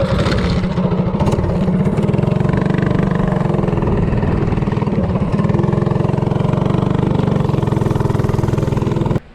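Bonanza minibike with a Duromax 208cc engine fitted with a VM22 carburetor, running loud and close at a sustained high pitch as it rides, a steady raspy small-engine drone that cuts off abruptly at the end.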